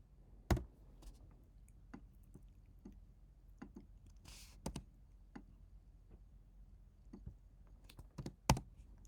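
A computer keyboard is typed on in sparse, irregular clicks and taps during Photoshop work, close but soft, with scattered sharper keystrokes against quiet room noise and no talking.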